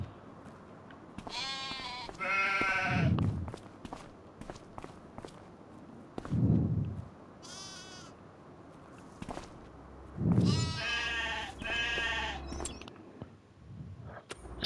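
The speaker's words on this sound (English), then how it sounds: "Hello sheep." Sheep bleating in the farming video game Farming Simulator 25, several drawn-out bleats at intervals over soft footsteps and low background ambience.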